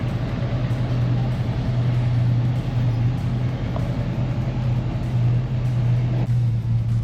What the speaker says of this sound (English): We got a big parade of classics behind me here.